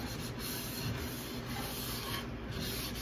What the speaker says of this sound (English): And now I'm just going in there and scrubbing.